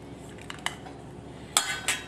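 Metal spoon scraping along the bottom of a bowl to scoop out avocado flesh, a few soft clinks early then two sharper scraping scrapes near the end, quiet and close.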